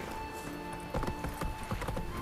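Hooves of Geralt's horse Roach in The Witcher 3 clopping down stone stairs, a run of clear, close clip-clop strikes in uneven rhythm over soft game ambience.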